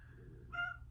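A cat gives a short meow over a quiet indoor hum, near and brief, with no talk.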